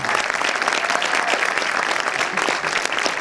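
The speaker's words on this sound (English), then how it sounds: "Give her a round of applause, please." Audience at a first film screening bursts into sustained, steady applause, a dense wash of many hands clapping at close range with no voices over it.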